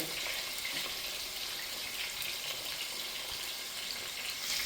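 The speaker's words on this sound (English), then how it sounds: "I'm just going to add 3 pieces and allow it to fry." Three pieces of fish frying in a pan for Jamaican brown stew fish, a steady soft hiss and crackle of hot oil running throughout with no talking.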